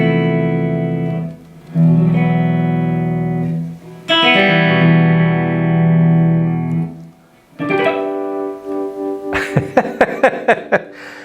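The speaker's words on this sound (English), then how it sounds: "we're just running a little bit of spring reverb in the amp, but that's the only effects that are on at the minute" Custom-built electric guitar played through an amplifier with a touch of spring reverb, ringing sustained chords that decay and swell, then a run of sharp, rhythmic strummed stabs, loud and close with no talking.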